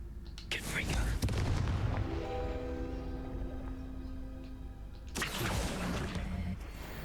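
A Confringo blasting spell goes off in Hogwarts Legacy: a sharp burst opens, a rumbling, tonal magical blast rings on for several seconds, and a second boom hits near the end, with quiet speech around it.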